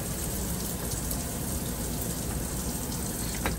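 Hot water from a tap in an RV trailer runs in a steady, close hiss that never lets up. No one speaks over it.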